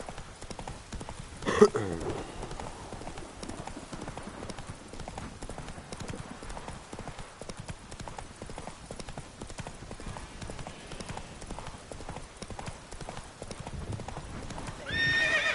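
Roach, a horse in The Witcher game, gallops with quick, rhythmic hoofbeat clip-clop throughout, fairly quiet, with a brief louder whinny near the start.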